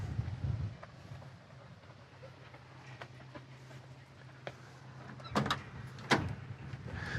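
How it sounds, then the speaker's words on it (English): Two solid clunks of a 1974 Plymouth 'Cuda's doors shutting sound near the end over faint wind noise, with quieter clicks and rustles before them. "Doors open and close really well."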